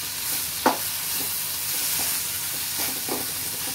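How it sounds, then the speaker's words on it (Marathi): Bread pieces are tossed with masala in a pan, a soft steady sizzle broken by a few distinct scraping knocks of the spoon against the pan, close and clear with no speech. "आणि मग ह्याच्यात पाव मिक्स करायचा"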